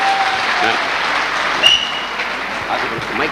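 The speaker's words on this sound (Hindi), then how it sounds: "एक जोरदार ताली मिसेस वंदना जी के लिए" An audience breaks into loud, sustained applause for Mrs. Vandana at a Safe Shop event. The clapping holds steady for the whole stretch with a brief peak partway through, and a voice may sit faintly underneath.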